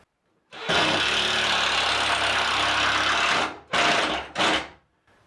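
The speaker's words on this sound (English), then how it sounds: "Just gonna drive a screw in." A power driver drives a screw into drywall, with a long steady whir of about three seconds followed by two short bursts as the screw seats. The sound is loud and close, with no one speaking.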